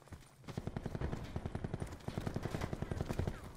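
Automatic gunfire in the video game Call of Duty Blackout clatters in fast, even bursts at moderate volume, with a short pause midway before the firing picks up again.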